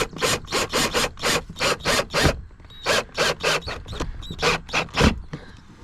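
Someone threads a wing nut by hand onto a fish finder mount on a kayak, making a close, rhythmic series of short squeaky rasping turns with a few brief pauses between bursts.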